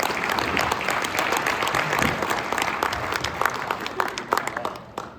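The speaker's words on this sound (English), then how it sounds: "Give them a round of applause." Audience applause for summit panelists after a discussion, dense clapping that holds steady for several seconds, then thins and tapers off near the end.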